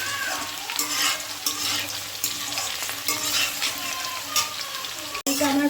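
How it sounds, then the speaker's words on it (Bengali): Potatoes fry in a pan with a lightly salted, bright crackling sizzle, broken up by repeated stirring scrapes. The sound is close and steady, ending in a sharp knock. "আলুটা আমি এখানটায় ভালোভাবে ভেজে নিচ্ছি"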